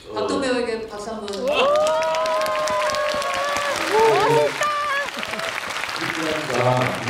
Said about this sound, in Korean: 그래서 그런 어떤 박도 배우에게 박수 한번.